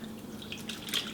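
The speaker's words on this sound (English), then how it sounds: "Then you want to go ahead and pour in the orange juice" Orange juice pours into tea in a faint, soft liquid trickle, close by and quiet, lasting about a second with no talking.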